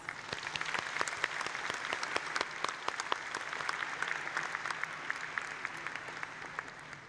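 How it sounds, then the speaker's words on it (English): A steady round of applause from a large high school graduation crowd, many hands clapping continuously and evenly throughout, with no pauses. "Please give all of these people a round of applause."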